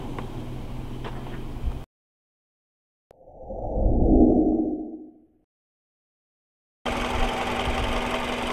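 A 2005 Toyota Alphard 2.4 engine idles with a steady low rumble, cuts out into silence, then a muffled engine-like swell rises and fades before the steady running resumes.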